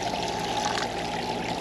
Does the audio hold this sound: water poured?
yes